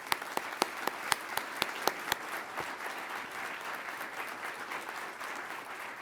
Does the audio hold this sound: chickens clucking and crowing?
no